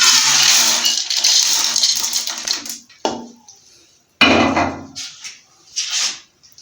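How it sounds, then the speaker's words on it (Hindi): Dried chickpeas and black-eyed peas pour into a metal pressure cooker, a loud rattling cascade of hard grains that stops, followed by several shorter clattering pours and small shakes. "इनको हम कुकर में डाल देते हैं।"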